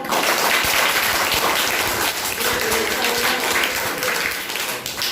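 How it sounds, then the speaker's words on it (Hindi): Schoolchildren clapping for a newly chosen child prime minister at a school cabinet event, a dense, steady round of applause filling the room at close range with no clear talk. "चलो ताली बजाओ।"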